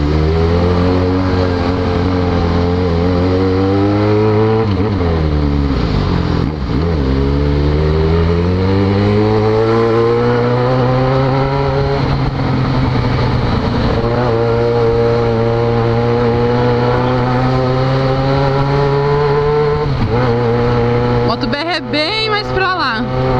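A Yamaha XJ6 motorcycle rides along, its engine loud and close, rising and falling in pitch through gear changes and throttle shifts, with a brief burst of wind or clatter near the end.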